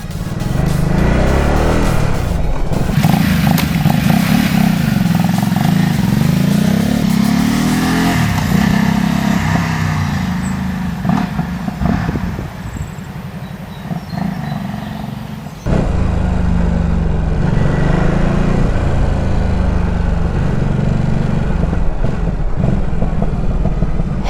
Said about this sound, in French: Oh, ça pétarade.